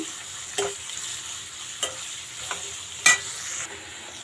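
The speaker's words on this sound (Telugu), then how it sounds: "ఇవి మనం ఆయిల్ ఫ్లేమ్ మీద రోస్ట్ చేసుకుందాము" Chopped vegetables stir-frying in oil over a flame for street-style chicken fried rice, a soft continuous sizzle punctuated by a few sharp spatula scrapes and taps at irregular intervals.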